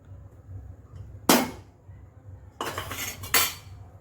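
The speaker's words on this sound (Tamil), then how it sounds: "இப்போ அதில் கிண்ட வேண்டியது தான்." An egg mixture is stirred in a pan with a few sharp metal clinks and scrapes: one near the start, then a cluster of two or three close together, against a quiet background.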